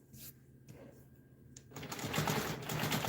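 A sewing machine locks in stitches on a custom quilt, a quiet rapid mechanical patter that builds and grows louder in the second half of the short stretch.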